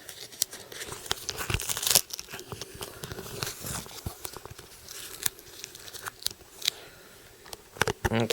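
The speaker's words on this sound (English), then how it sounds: "I'm gonna have to re-duct tape some of this" Duct tape tearing and peeling away from hidden wiring on a homemade EMP gauntlet, a run of close, sharp rips and crinkles with brief pauses between pulls.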